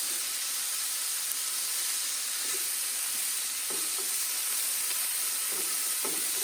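Kimchi fried rice sizzling steadily in a hot pan, a continuous bright hiss with occasional soft scrapes and thumps as it is stirred.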